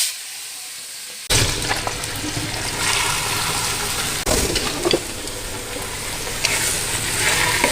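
Masala spices dropped into hot oil in a home kitchen burst into a loud sizzle after a quiet start, then keep frying steadily with a second surge midway and occasional scraping stirs.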